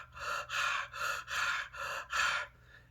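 A person imitates a dog panting with six quick, breathy huffs in a steady rhythm, close and fairly quiet, followed by a brief silence.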